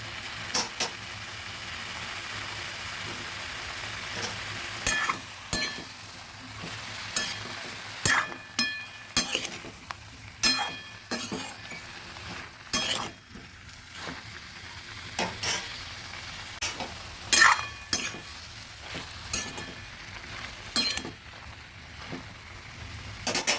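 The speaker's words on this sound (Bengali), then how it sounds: "পরিমাণ মতো নুন দিয়ে দিচ্ছি ভালো করে নেড়ে এবার ঢাকা দিয়ে দেবো" Tomatoes stirred with salt in a pan for homemade tomato sauce, a spoon scraping and clacking in irregular bursts over a soft sizzling hiss, close by and moderately loud.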